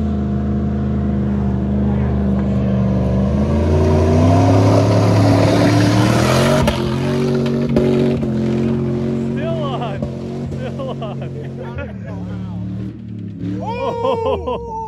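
A Jeep Cherokee being driven hard while falling apart, its engine roaring and revving loudly and steadily with rising and falling pitch; voices shout over it near the end.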